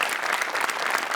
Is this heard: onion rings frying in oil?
no